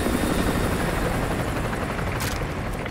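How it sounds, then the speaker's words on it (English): An enemy helicopter in Call of Duty Modern Warfare 2 thunders close and loud, its rotor chop a dense continuous roar that holds steady for the whole stretch and eases off slightly toward the end. "Enemy helo patrolling the perimeter."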